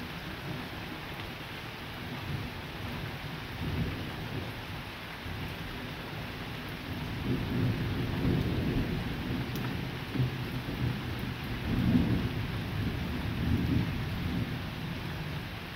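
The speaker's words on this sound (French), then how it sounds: "c'est ça le problème avec les orages de jour, c'est qu'on voit pas les éclairs quoi" Daytime thunderstorm in September, with continuous rain hissing throughout and low rolling thunder swelling several times in the middle and near the end, no voices.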